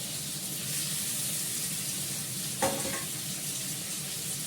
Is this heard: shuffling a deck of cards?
no